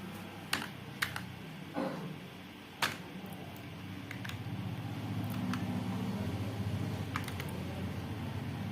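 Keystrokes on a computer keyboard while an ID card is laid out in PageMaker: a few separate clicks early on, then quiet, low-level tapping over a steady background hum.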